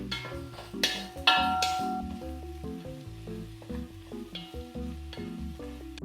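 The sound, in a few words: shallot sautéing in a pan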